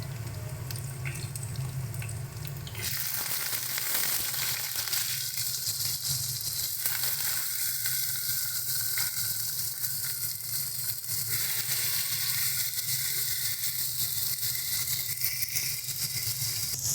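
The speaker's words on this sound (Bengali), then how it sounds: "পেঁয়াজটাকে হালকা একটু ভাজা ভাজা করে নিয়ে দিয়ে দেবো" Sliced onions fry lightly in a pan for a dish of kharkol leaf tips and jackfruit seeds, giving a steady, close sizzle that jumps louder after a quieter start and carries on alone without talk.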